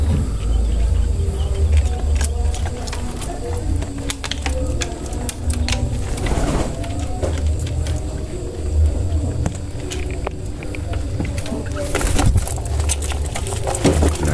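A colony of turtle doves and pigeons being fed at night, with a busy mix of soft cooing, fluttering and rapid pecking clicks throughout, close and steady with no talking.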